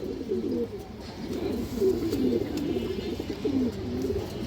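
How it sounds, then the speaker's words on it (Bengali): Furan breed pigeons coo continuously in low, rolling phrases, several birds close together, an unbroken murmur with no voices. "ফুরান জাতের কবুতর এগুলা"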